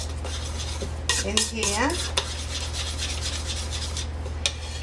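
Plum pie ingredients with sugar and a pinch of salt stirred in a bowl, a steady scraping and rubbing of utensil against the bowl over a constant low hum, with a brief spoken phrase early on.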